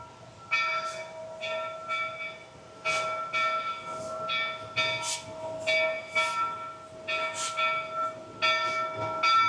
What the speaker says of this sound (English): let's take a look at the train that's making its way back in to Ghost Town.